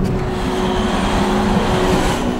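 A giant 840-tonne mining haul truck drives through a copper mine in the Atacama Desert, a loud, continuous low engine drone with a steady tonal hum and no voices.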